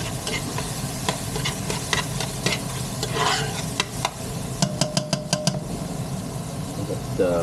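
A pan sizzles steadily while broth is stirred in, with a string of sharp clinks from the spoon toward the end.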